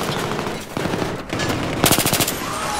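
Loud bursts of rapid automatic gunfire in Battlefield 3, a quick rattling volley near the end after a few scattered shots, with game-like ambience throughout.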